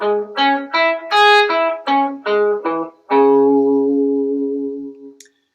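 Electric guitar picking a minor arpeggio in second position, about eight clear separate notes climbing and falling, ending on one long ringing note that fades out, with a light echo effect.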